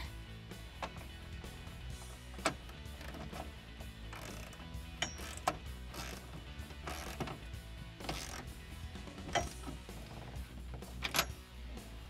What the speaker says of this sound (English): I'm gonna use a 19mm socket, get it on the back nut, and I'll use a 19mm socket on the front.